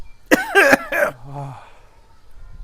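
A few harsh coughs close by, three quick bursts followed by a groaning exhale, then quiet.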